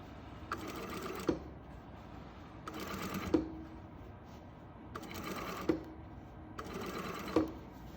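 A sewing machine stitches a gusset seam in four short bursts of fast, rhythmic whirring, each ending with a small click, separated by brief quiet pauses; close and moderately quiet.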